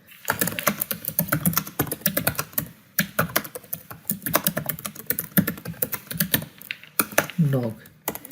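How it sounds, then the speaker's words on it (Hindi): Rapid clacking keystrokes on a computer keyboard while text is typed into a word processor, irregular bursts with brief pauses, a voice talking over the typing. "जैसे हमने कोई टाइपिंग की,"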